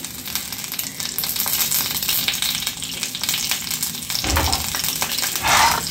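Curry leaves dropped into hot oil for a farm chicken curry crackle and sizzle loudly and close up, with a burst of sharper spitting toward the end.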